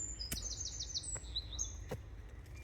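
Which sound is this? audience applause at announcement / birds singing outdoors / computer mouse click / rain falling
birds singing outdoors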